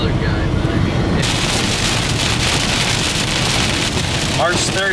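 Heavy rain pours down during a severe thunderstorm near Tipp City, Ohio, a loud, dense, steady roar of drops beating on surfaces, with brief sounds of movement near the end.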